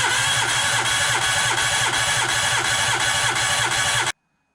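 A Suzuki Alto engine with a suspected head gasket failure cranks on the starter during a compression test. A close, loud chugging beats in an even rhythm for about four seconds, then cuts off to silence.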